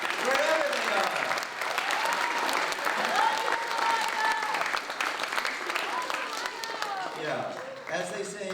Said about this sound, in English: So let's all of us clap for our mothers, wherever they are.